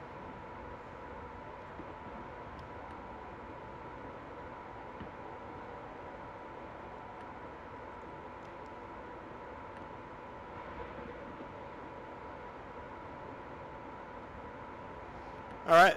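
A Class 87 electric locomotive in BR Blue livery running on the West Coast Main Line over Shap in a train simulator, a steady low rumble and hum holding evenly throughout, quiet and continuous, with someone talking over it.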